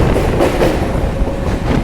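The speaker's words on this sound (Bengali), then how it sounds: "তো ছেড়ে দিল আমাদের ট্রেনটি বরানগর রোড রেলওয়ে স্টেশন থেকে" A local train on the Sealdah–Dankuni line pulls out of Baranagar Road station, giving a loud, steady rumble of wheels and carriages with faint rhythmic clatter throughout.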